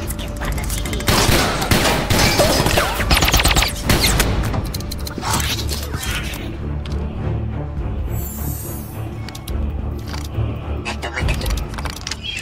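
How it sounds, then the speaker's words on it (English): Gunfire breaks out in the underdeck of Air Force One in the 2007 Transformers film: loud bursts of rapid shots over a dense, roaring movie soundtrack, with metallic clatter and voices mixed in. "Shots fired in the underdeck."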